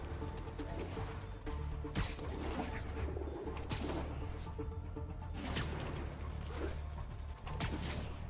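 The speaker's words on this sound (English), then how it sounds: "Pigeon target acquired" Pigeons cooing in Marvel's Spider-Man (2018), repeated soft coos over a steady bed of ambient noise with faint creaks, no talk.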